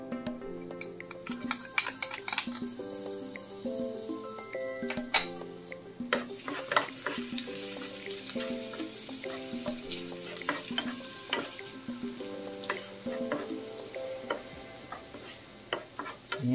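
Garlic sautés in a brand-new frying pan, a gentle continuous sizzle with periodic sharp taps and scrapes of a spatula against the metal, close and moderately quiet, with no one talking.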